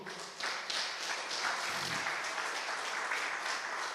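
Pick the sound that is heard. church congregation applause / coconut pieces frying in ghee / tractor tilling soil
church congregation applause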